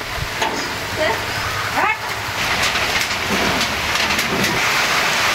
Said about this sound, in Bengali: বৃষ্টি পড়তেছে, বৃষ্টি হচ্ছে, আমি ভিজতেছি বৃষ্টিতে